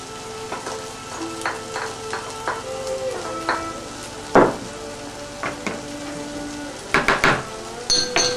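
Pad thai being stirred in a frying pan: repeated scraping and clattering strokes over a continuous sizzle, with a brief louder burst in the middle and quick clustered stirs near the end.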